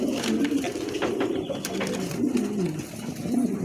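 A pair of Lahori pigeons coo in soft, repeated low throaty phrases, close by, with rustling in the background and no talk.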